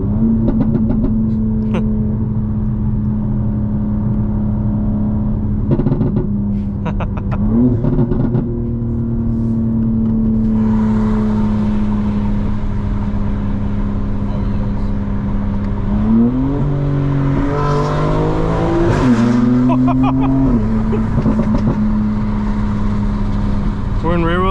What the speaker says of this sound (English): We're in rear wheel drive now, which means even less cutting of the throttle because it just completely lets the wheels spin.